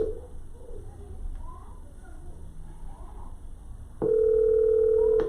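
A phone call-back tone cuts in sharply partway through and holds as a steady, loud electronic tone, after a stretch of faint background noise.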